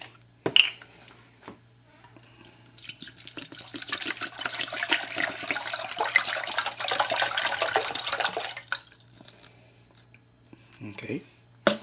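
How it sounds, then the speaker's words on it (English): A kitchen tap runs steadily for several seconds while coffee is being made Puerto Rican style, a broadband rushing flow that starts and stops with a few handling clicks around it, close and moderately loud. "I'm going to open the water with one hand."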